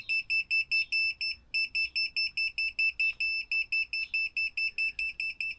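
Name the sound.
cheap green laser level beeping when not level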